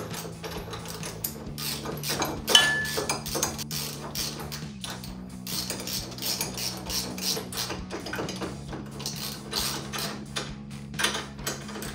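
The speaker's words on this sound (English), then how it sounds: "we're gonna tighten the bolts from the outside just a little bit" A ratchet tightens bolts on the grille guard of a 2017-2022 Ford F-250 Super Duty, giving repeated sharp metallic clicks in uneven bursts, close and fairly quiet, with a low steady hum underneath.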